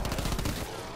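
Rapid automatic gunfire from the video game Call of Duty Black Ops 4, a fast burst of close, loud shots that stops after about half a second and leaves a fading tail.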